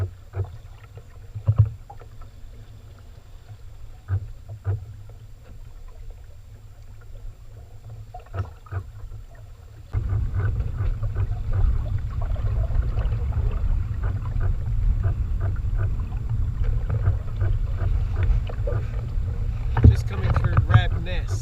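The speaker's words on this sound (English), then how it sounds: "gentle cruising back, a couple of knots, pushing against the tide" A small sailing boat cruises gently at a couple of knots against the tide on a calm morning, with water lapping and hull sounds, then steady wind buffeting the microphone in the second half.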